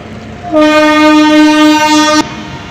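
A loud, steady train horn blasts for nearly two seconds, rich and harmonic, then cuts off abruptly amid rail noise as the Narasapur Express departs Gudivada station.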